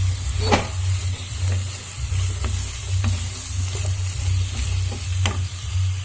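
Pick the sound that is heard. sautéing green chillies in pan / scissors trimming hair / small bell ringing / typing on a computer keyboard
sautéing green chillies in pan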